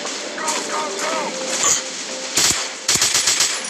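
Bursts of gunfire from the mobile shooting game Commando Mission Gun Games 3D, a couple of sharp shots followed by a rapid volley near the end, under someone talking in Turkish.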